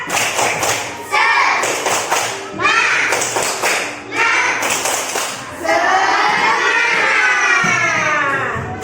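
A class of children clapping together in rhythm for a clapping chant, loud bursts of claps in counted groups with chanting voices in between, close and lively.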